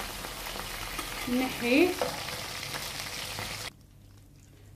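Merguez sausages fry in a pan with a steady close sizzle, punctuated by a few stirring scrapes and clanks before the frying cuts off abruptly; a voice speaks briefly over it.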